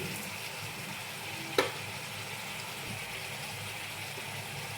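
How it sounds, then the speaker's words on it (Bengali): Semolina upma being stirred in a pan with salt, sugar and turmeric, a soft continuous sizzle and frying hiss throughout with one brief sharp clink of the utensil against the pan. "এগুলো হালকাতে নেড়ে নেব কিছুক্ষণ।"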